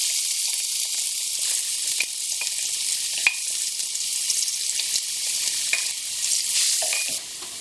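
Chilies frying in hot oil for a Bangladeshi tarka dhal give a steady, close sizzle with occasional sharp pops and crackles over the continuous hiss, and no one speaks.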